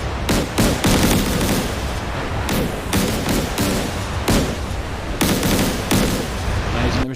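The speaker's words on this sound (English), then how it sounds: "He's going broadside, bringing all of his guns to bear" Naval ship guns fire a broadside in DCS World, a battleship bringing all its guns to bear: repeated heavy, loud blasts in uneven bursts that overlap and rumble together through the whole stretch.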